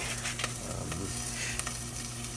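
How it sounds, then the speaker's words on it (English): Vegetables braise in hot avocado oil in a pan, a steady close crackling sizzle with a few brighter pops and the soft scrape of stirring, with no talking. "we're braising off all the vegetables in a high temperature oil like avocado"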